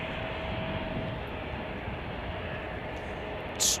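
American Eagle regional airliner operated by Air Wisconsin at Chicago O'Hare, a steady broadband engine roar held at even loudness throughout, with a brief brighter burst near the end.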